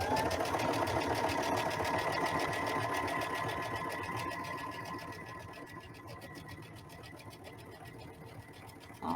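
A sewing machine stitches a vinyl iron-on placemat in a fast, steady mechanical whir of rapid needle strokes. It is close and loud at first, slows and fades toward the end, then gives a brief louder burst, with no talking.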